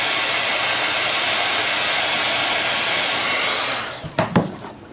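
A heat tool blows on foil in a craft project, giving a loud, steady hiss of hot air for about four seconds. It cuts off, leaving a few soft handling knocks.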